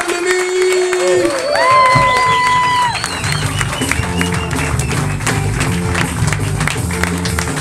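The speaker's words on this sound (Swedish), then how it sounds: "Och det kan ni applådera mer?" A live comedy club audience claps and cheers as a comedian walks onto the stage, a sustained crowd roar of applause with scattered whoops and music underneath, fairly loud throughout.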